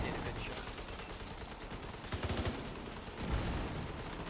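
Gunfire from The Division 2 during a Dark Hours raid: steady, fairly quiet bursts of rapid shots running throughout, with a couple of louder thumps near the middle and end.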